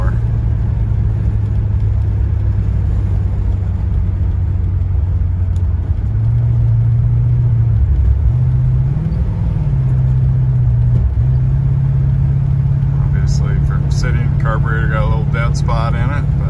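A 1977 Cadillac Eldorado cruising at about 60 mph gives a steady, low road and engine rumble throughout, with a slight shift in pitch midway, while people talk over it.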